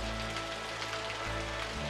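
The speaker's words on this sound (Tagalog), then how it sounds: "Malakas yung ulan, Sabel eh." Heavy rain drums steadily on surfaces in a dense, close, continuous patter, with a low hum beneath it and no voices.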